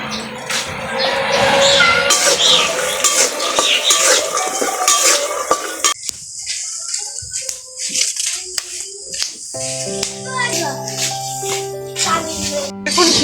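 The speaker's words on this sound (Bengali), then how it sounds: "এবার বাদামগুলো তেলের মধ্যে ঢেলে দেবো পরিমাণ মতো লবণও দিয়ে দেবো" Peanuts are poured into hot oil with salt, making a busy rattle and sizzle at first, then sparser clinks and stirring sounds with a faint voice in the background.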